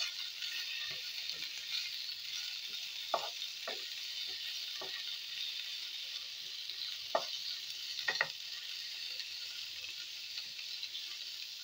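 Potatoes fry with bitter gourd in a pan, a constant soft sizzle with occasional scraping stirs and clacks of a utensil against the pan, close and fairly quiet.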